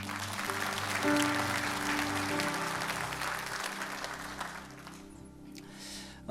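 A church congregation at a Sunday service applauds to welcome a pastor to the front, a steady, full wash of clapping with musical tones underneath that thins out near the end.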